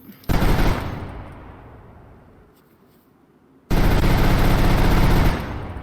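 A space gun firing in DayZ: a sustained loud burst of rapid gunfire that trails off into a fading echo, then a second long, dense burst, with no talking.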